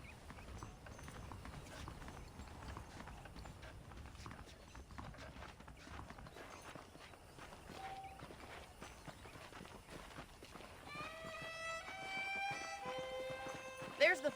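Saddled horses in the Western video game Red Dead Redemption clip-clop steadily at a walk through the whole passage, under continuous talk, with melodic game sounds rising near the end.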